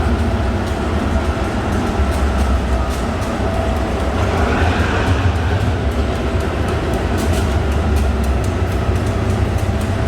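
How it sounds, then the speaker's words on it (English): A train rumbles loudly and continuously nearby, with rhythmic clacking and metallic rattling as it rolls into track 10 at Hua Lamphong station, Bangkok. "So this train is coming in now in track number 10"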